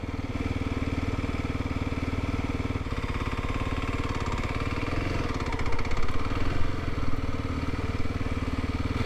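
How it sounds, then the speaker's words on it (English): A motorcycle engine idling steadily nearby, a continuous low rumble with a slight rise partway through, with no talking. "Oh, there's a motorbike."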